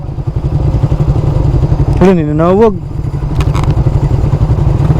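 A motorcycle engine runs steadily throughout, with a person speaking over it and a brief rising tonal sweep partway through.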